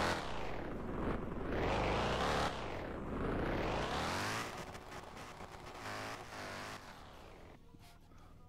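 Car engine in a Roblox game: loud, close engine revving in repeated rising and falling sweeps, then settling into a rougher running note with clicks and a faint voice near the end.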